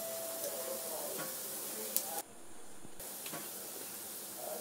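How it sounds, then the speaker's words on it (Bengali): Jackfruit pakora deep frying in oil, turned side to side with a ladle: a soft, steady sizzle and hiss with a few small clinks, faint and close, and a brief dropout partway through. "তো ভালোভাবে এপাশ ওপাশ করে ভেজে নেব লাল লাল করে।"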